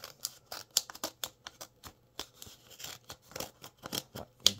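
Scissors snip through trading card packaging in a rapid series of sharp, close cuts with short pauses between them, and no one talks.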